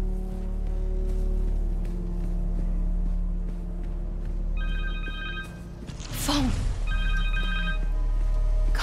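A cell phone rings in Marvel's Spider-Man 2, two short bursts of a bright repeating electronic ringtone over a steady game ambience and low music, with a louder impact-like swell between the rings.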